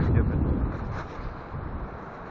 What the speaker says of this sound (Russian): Просто сильнейший ветер.